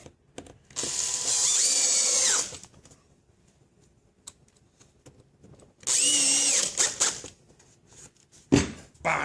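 A power drill drives screws into a plywood top in two loud, sustained whirring bursts close by, separated by a quiet pause, with a short clunk near the end.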